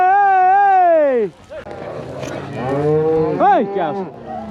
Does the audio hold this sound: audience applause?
no